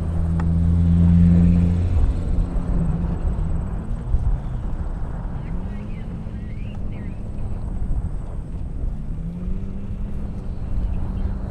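A Corvette race car, the Indiana Corn Marketing Council entry, roars past at an airstrip drag race, its loud engine note sweeping in pitch as it passes amid a steady outdoor roar.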